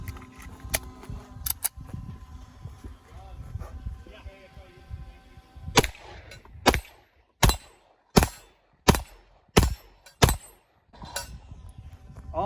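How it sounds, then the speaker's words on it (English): Browning High Power pistol fired at an outdoor range, about eight sharp loud shots in a steady rhythm emptying a magazine, preceded by faint handling noises and light background sounds. "We got the Browning High Power, and we're going to load up a mag and see what she can do."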